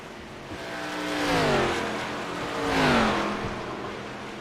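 Race cars on the final lap of a racing video game roar past in two loud engine swells, pitch sliding down as each passes close by, with no talk over them.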